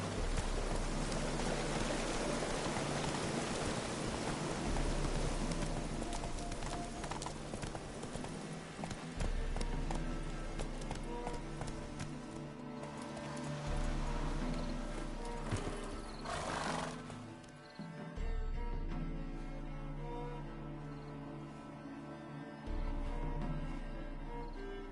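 Roach the horse gallops in a video game, with steady rapid hoofbeats, an occasional whinny, and a wash of rain going on continuously underneath.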